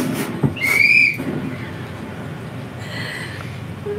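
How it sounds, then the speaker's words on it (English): A whistle blown outside a window gives one sharp, bright shrill blast early on, then fainter whistle traces later over a low background rumble, heard at some distance indoors. "You hear the whistle?"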